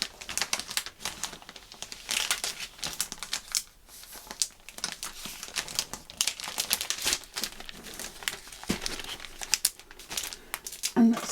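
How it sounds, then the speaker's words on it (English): Cellophane bag crinkling as craft paper pieces are slipped back inside, a close, continuous crackling rustle with irregular bursts and no talking. "let's pop them back into the cellophane bag"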